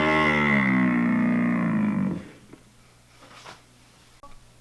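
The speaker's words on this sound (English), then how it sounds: "This is a buffalo." A buffalo lets out one long, deep, harmonic moo-like bellow lasting about two seconds, close and loud, then trails off into faint background noise.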